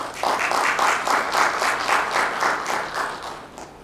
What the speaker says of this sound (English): Please give a hand of applause to Song Vang, educator.